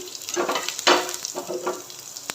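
Crushed garlic cloves hit hot oil in a pan, giving a steady close-up frying sizzle with crackling bursts that rise and fall over a couple of seconds and no talking.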